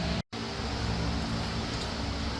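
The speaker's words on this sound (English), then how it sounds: "I'm sorry about the fan. If I cut that off, the mosquitoes and the heat will get me." Electric fan running in a workshop, giving a steady broadband whoosh that dominates throughout. A brief dropout near the start cuts the sound out for a moment.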